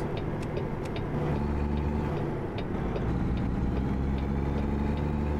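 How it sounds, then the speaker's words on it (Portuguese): A steady truck engine hum from American Truck Simulator, driving near the Golden Gate in San Francisco, runs continuously at moderate level with a low rumble and no voices over it. "como podem ver, o barulho do motor também é totalmente diferente"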